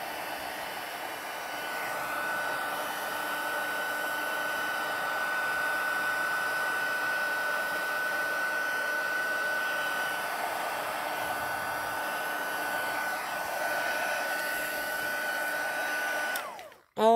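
A heat tool blowing to heat-set a coated craft surface, a steady, fairly loud whooshing roar held at an even level for many seconds before it cuts off abruptly at the end, with no talk.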